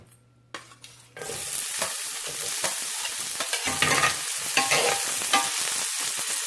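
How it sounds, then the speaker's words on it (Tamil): Onions frying in hot oil for an Indian cauliflower dish: after a quiet second, a loud, steady sizzle bursts in and continues close by, broken by occasional stirring clatters. "எண்ணெய் சூடானோன்னா இதில் வெங்காயம் போட்டுக்கோங்க."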